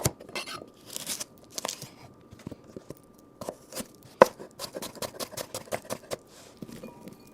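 A knife chops cucumbers steadily on a cutting board, crisp taps coming in quick irregular bursts, close and fairly loud, with no one talking.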